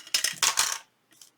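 Metal paper clips dropping onto a messy desk, a quick cluster of bright jingling clinks followed by a brief pause and one faint final rattle.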